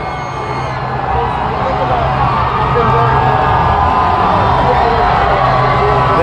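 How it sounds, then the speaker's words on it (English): Huge parade crowd at the New England Patriots Super Bowl LIII victory celebration chanting for Tom Brady, a loud, continuous roar of shouting and cheering that swells and stays dense throughout. "Oh, we have a goat chant."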